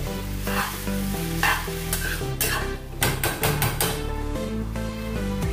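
Boiled noodles for veg fried noodles being stirred and tossed in a hot pan, with a continuous sizzle and rhythmic scraping strokes under loud background music.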